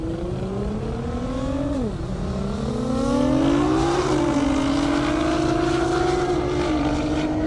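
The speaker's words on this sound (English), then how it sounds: "Tamsin's gonna light off in that GTR." A Nissan GT-R launches hard down a half-mile airstrip drag course, its engine note climbing steeply through the gears, loud and close, with a brief dip at a shift before pulling strongly again.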